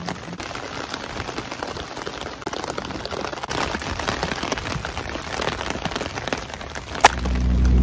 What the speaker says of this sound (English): So I'm still waiting for the bus, and it is really raining.